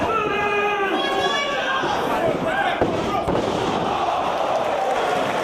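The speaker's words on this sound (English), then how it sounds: "slams him head first" A wrestler is slammed head first onto the ring, a single heavy thud in the middle of loud crowd noise and excited commentary.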